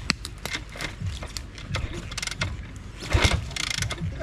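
A Kawasaki KLX140RF dirt bike is kickstarted by hand, giving a run of sharp mechanical clunks and scrapes, with the small engine briefly coughing and rumbling louder near the end, close by.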